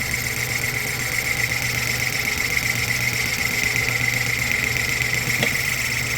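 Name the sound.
1930s Craftsman Atlas lathe taking a deep cut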